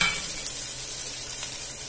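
Vegetables frying and being stirred in a little oil for veg pulao, a close, steady sizzle with scraping stirring strokes, no voices.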